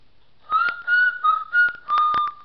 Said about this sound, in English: Man, I love that whistle.